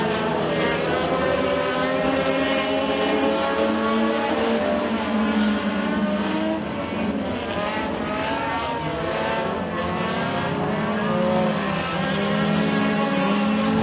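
A pack of dirt-track race cars roars off at the start of a heat at Eriez Speedway, several engines revving and rising in pitch together, loud and close, with overlapping engine notes sweeping up and down throughout.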